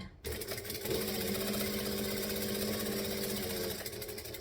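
Sewing machine running a panel with stitch and back stitch, a steady close mechanical whir that starts after a brief pause and holds continuously, easing slightly near the end.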